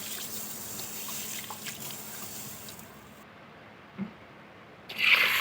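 Steady running water with a soft splashing wash of soaked mung beans being rinsed, a small knock near the end, then a brief brighter swish of water.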